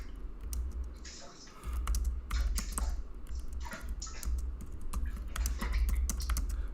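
Typing on a computer keyboard, quick irregular clicking keystrokes in bursts, close and moderately loud over a low background hum.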